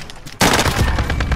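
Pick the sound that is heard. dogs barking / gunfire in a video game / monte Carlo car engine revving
gunfire in a video game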